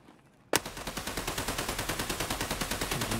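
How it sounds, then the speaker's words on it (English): A light machine gun in Escape from Tarkov opens fire after a brief quiet moment, then keeps up a steady rapid burst of evenly spaced, loud, close shots that lasts to the end. "I'm just opening fire on this LMG"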